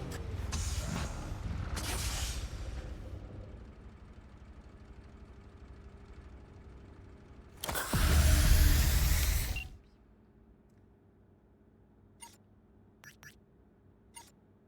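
Truck in the video game Cyberpunk 2077, its engine rumbling through long hissing bursts of air brakes, with a loud release midway, then near quiet broken by a few short sharp clicks.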